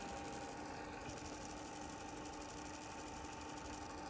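A TOS FNK 25 vertical turret milling machine runs its spindle at minimum speed, 56 rpm, on a two-speed motor, giving a steady mechanical whir with a faint rhythmic ticking, constant and close throughout.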